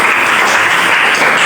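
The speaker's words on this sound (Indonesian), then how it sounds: "Tepuk tangan semuanya." Classroom applause after a group presentation: a dense burst of many hands clapping together, loud and steady throughout, with no speech over it.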